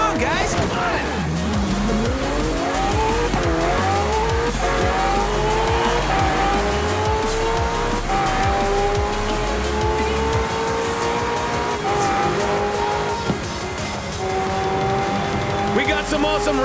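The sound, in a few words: race cars and trucks racing, tires squealing, Forza Horizon 4 video game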